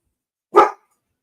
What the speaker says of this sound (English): if the dog starts barking, neighbors are walking by.